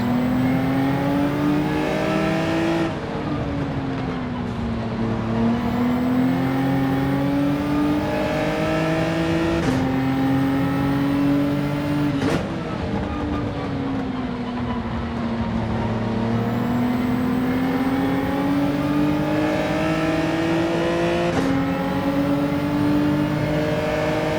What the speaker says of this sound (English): we got a Mustang barreling in on behind us